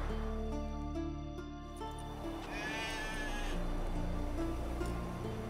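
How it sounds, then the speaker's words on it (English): Sheep bleating in the Skellige isles of the video game Witcher 3, a few bleats rising over steady ambient game music and wind, moderately close and alone without talk. "Hey, sheep, come here."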